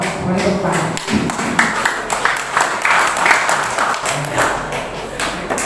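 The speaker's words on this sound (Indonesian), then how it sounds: "Kita beri aplaus" A village crowd at the meeting forming the Merah Putih cooperative claps for its newly elected board. Steady, fairly close applause runs throughout, with a voice speaking over part of it.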